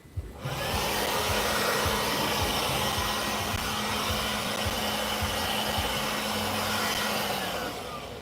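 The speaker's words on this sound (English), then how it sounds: "I'm going to get that blower and blow the debris off of there." Stihl leaf blower running steadily at full throttle, blowing debris off steps at a hot outdoor building site, a loud, continuous close-up roar that holds for several seconds with no talking.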